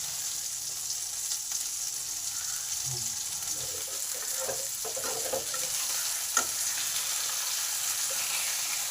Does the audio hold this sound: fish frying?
yes